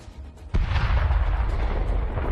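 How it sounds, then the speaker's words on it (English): A tank cannon fires a single loud, sharp shot during the Russia-Ukraine war, followed by a sustained rumbling roar and echo that lingers for about two seconds. "Ukrainian tank fires a shot and hits the enemy."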